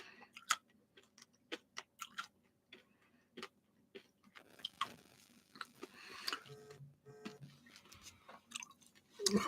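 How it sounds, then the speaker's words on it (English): Irregular crisp crunches and clicks from close chewing of a hard cough drop, sharp bursts scattered through otherwise quiet audio. "Sorry, I crunched my last of my cough drop here."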